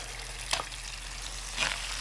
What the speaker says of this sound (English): You hear that noise, the sizzle.